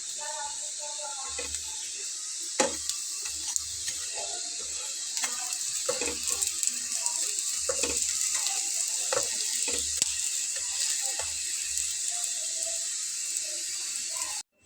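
Batter fritters made with lentils and spinach fry in oil, a steady hiss running throughout with intermittent low clinks and soft bubbling pops, close and fairly loud, ending abruptly.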